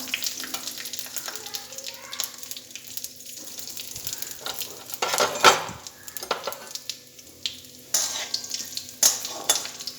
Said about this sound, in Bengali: এর মধ্যে আমি শুকনো লঙ্কা, তেজপাতা, কালো জিরে আর রাঁধুনি ফোড়ন দিলাম।